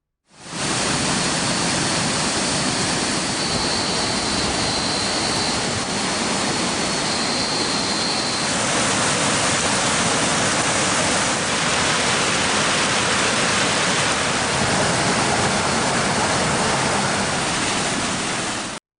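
Heavy monsoon rain feeds a rushing waterfall at a forest eco-tourism spot near Kalakkad, a dense, loud, unbroken roar of falling water lasting throughout with no voices.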